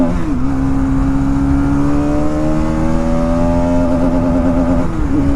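Bajaj Pulsar NS200 motorcycle accelerating hard from 0 to 100, engine note rising in pitch with clear gear shifts, loud and close, no talk over it.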